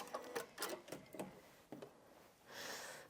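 Janome MC 6700p sewing machine stitching a few short locking stitches in bursts, quiet and close, with a brief whirring run at the end.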